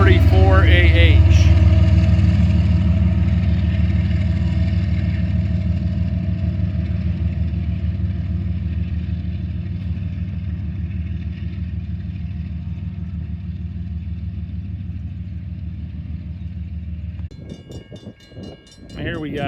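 Rail freight train passing at Greenwich with an ES44AH locomotive working as an end-of-train helper, its loud, steady diesel engine rumble droning close by and slowly fading, followed by a brief clattering change near the end.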